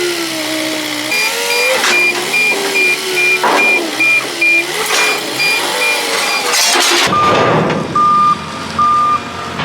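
Telehandler working on a farm yard while loading trailer sides, its reversing alarm beeping in a steady repeated pattern over a loud engine drone, then switching to a different lower beep tone after a sudden change in the engine sound.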